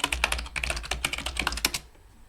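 A password is typed on a computer keyboard at a login prompt, a quick run of close, crisp key clicks in an uneven rhythm that ends in near silence, with no talking.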